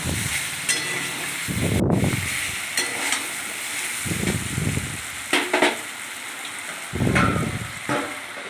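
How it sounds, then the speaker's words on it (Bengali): Mango pieces for a sweet, sour and spicy pickle cook in a pan, a constant sizzle broken by several low scraping stirring strokes. "ঢাকা সরিয়ে আবার আমটাকে ভালো করে নাড়াচাড়া করে নিলাম আমি টুকরোগুলো"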